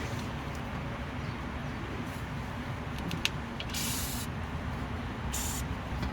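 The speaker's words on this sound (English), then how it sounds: "go ahead and spray some more shit up in there" Steady hissing background with two short bursts of high spray, each about a second, from an aerosol can close by while working on the rear sway bar end links of a Honda CR-V RD1.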